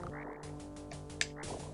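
Frogs in the forest level of the game King Colossus croak in quick successive pulses, layered over a steady droning musical background.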